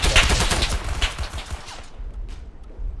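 Gunfire in the Roblox D-Day video game: a dense, rapid burst of shots crackles loudly through the first half, then thins into a few scattered, fainter reports with no talk.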